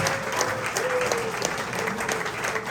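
A crowd at a basketball tip-off party gives a round of applause for a long-serving staff member, steady and fairly loud clapping with a faint voice or tone faintly audible underneath.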